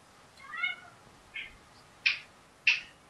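A house cat meows for food, giving four or five short, separate, close-up meows with pauses between them in an otherwise quiet room.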